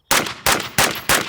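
Four sharp suppressed shots from a bullpup rifle fitted with a B&T suppressor ring out close and loud, fired in quick, evenly spaced succession.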